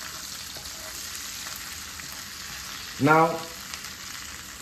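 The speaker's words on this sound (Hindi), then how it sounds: "इस साइड को आपको इतनी देर फ्राई करना है जितना आपने पिछली साइड हो गया" Pomfret fish frying Indian style in a pan gives a soft, steady sizzle throughout, interrupted once by a brief spoken word from a nearby voice.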